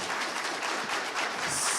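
Audience at an Oklahoma governor's debate clapping, a short, fairly faint burst of scattered applause in a hall.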